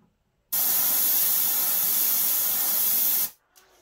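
An airbrush sprays black paint over a stencil taped down with cheap masking tape, giving a steady, loud, close hiss that starts abruptly, holds for under three seconds, then cuts off.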